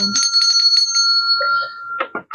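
A bright bell rings in a quick series of short tones, close and clear, followed by a few brief sharper hits.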